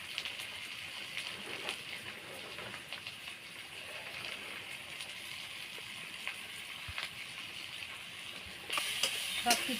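Ingredients for a hilsa curry frying in a pan, giving a steady, low sizzle that runs evenly throughout with light stirring, growing slightly louder near the end.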